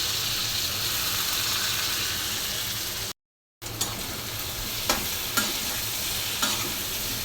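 Eggplant sizzles steadily in a hot pan with the scrape and clack of a spatula stirring, after a brief cut the frying resumes with a few sharp utensil knocks.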